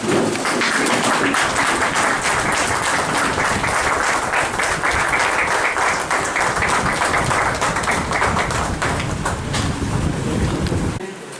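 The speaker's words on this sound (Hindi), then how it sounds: "आप सब अपने स्थान पर खड़े होकर उनका अभिनंदन करें, तालियां बजाकर" Sustained, loud applause from an audience standing to honour someone at a Lions Club installation ceremony in Nagda, a dense wash of clapping that fills the whole stretch without pause before cutting off at the end.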